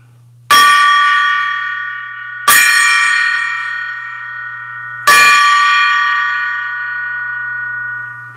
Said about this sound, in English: Right now, we get to ring the gong.